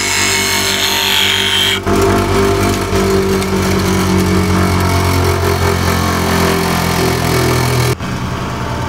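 Bench grinder wheel of about 6.5 inches reshaping the bevel of a bowl gouge, a loud steady whir with dense grinding texture that runs nearly unbroken for the whole stretch and cuts off abruptly near the end.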